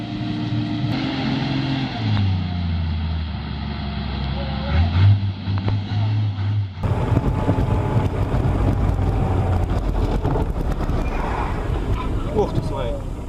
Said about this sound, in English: The truck had a hard time getting through this muddy road after a long time.